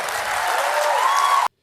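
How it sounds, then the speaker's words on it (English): Audience applause at a political event swells as a broad, steady wash of clapping for about a second and a half, then cuts off abruptly. "Wow, applause sign."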